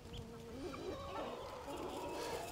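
Chickens and guinea fowl let out to roam free for the first time, giving faint, soft clucks and calls over a steady outdoor hiss with an insect-like buzz.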